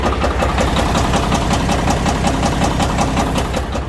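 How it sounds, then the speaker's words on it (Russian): Damaged International truck engine idling with a steady, rapid mechanical knock through a continuous close rumble, loud and unbroken. "Все, мотор стуканул, слушайте."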